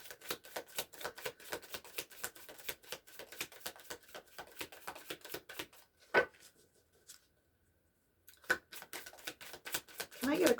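A deck of Wisdom of the Oracle cards is shuffled by hand in a rapid, even run of crisp clicks, which pause briefly before a few final taps as a card is drawn, close and fairly quiet.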